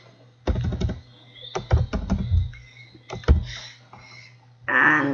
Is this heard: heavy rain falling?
no